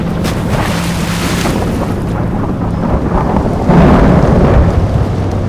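A thunderstorm rolls through a film scene, with heavy rain hissing and wind buffeting, a deep thunder rumble swelling near the end, and the whole mix loud and broadband throughout.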